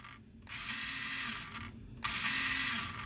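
An RC car's electric motor with a Hobbywing Juststock setup and a faulty BEC whirs under full throttle, a close, steady mechanical buzz that steps up abruptly in pitch and loudness partway through, with no talking.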